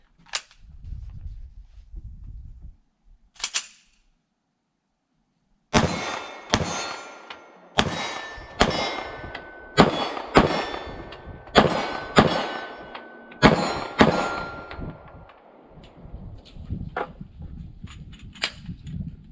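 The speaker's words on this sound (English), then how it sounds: "We'll take some shots with the P30." Series of sharp 9mm shots from an H&K P30S pistol fired outdoors from a deck at about 15 yards: one early report, then about nine loud cracks at irregular intervals, each ringing briefly.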